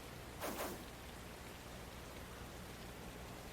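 Rain falls in the Hot Shots Golf World Invitational video game, a steady, soft hiss of rainfall throughout with a brief whooshing swell near the start, no voices.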